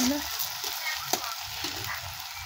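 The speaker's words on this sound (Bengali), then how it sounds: "এবার এটা কষিয়ে নেব ভালো করে" Ginger garlic paste fries with onions in oil for chicken curry, a close, continuous sizzle broken by scraping stirs and one sharp clink of a spoon against the pan.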